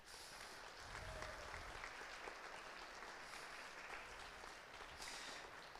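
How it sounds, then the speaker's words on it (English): Steady applause from a band concert audience honouring the festival adjudicator, a continuous even wash of clapping heard from some distance, with no voices on top. "If we could please give her a round of applause for being here tonight."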